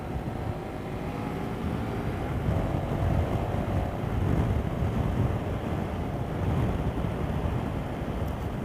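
Strong wind roars steadily against riders on a KTM Super Adventure S motorcycle, a loud, continuous buffeting rush with no voices.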